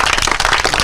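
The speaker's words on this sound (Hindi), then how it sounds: "ताली बजाइए आप लोग" An audience claps together at a public gathering, a dense, loud burst of applause that carries on throughout without voices.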